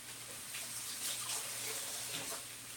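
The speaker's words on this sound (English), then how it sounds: "Sorry, washing my spatula." Tap water runs steadily over a spatula in a kitchen sink, a close, continuous splashing hiss with slight fluctuations as the utensil moves under the stream.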